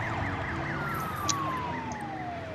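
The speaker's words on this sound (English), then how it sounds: "we got our ambulance, of course, is responding to someone being injured" An ambulance siren from the city-building game SimCity wails in a repeating up-and-down pattern, moderately near over a low hum of background traffic, with no voices.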